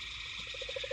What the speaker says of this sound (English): Everyone can hear the toads croaking in the background right now